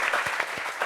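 Brief burst of audience applause at a French group discussion on workplace sexual harassment, a dense, even patter of many hands, moderately loud and continuous for under a second.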